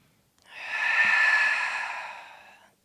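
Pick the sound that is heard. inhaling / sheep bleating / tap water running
inhaling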